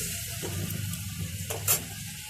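A spice masala fries in a pan for soya pulao, with a soft, steady sizzle and faint stirring scrapes, alone and without talk.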